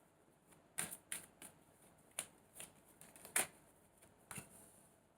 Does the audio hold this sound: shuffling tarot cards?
yes